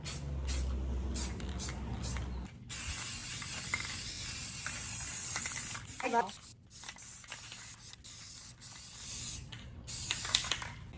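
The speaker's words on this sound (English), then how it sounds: "And then just start spray painting your area." Several hissing bursts of spray paint from a can onto an IKEA tray, some long and some short, with brief pauses between them, close to the microphone.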